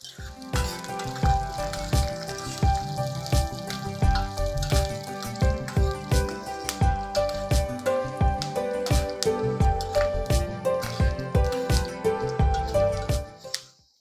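Chana dal, urad dal and dried red chillies crackle in hot oil as a tempering, a continuous sizzle dotted with many sharp pops and spatters, close and loud, fading at the end.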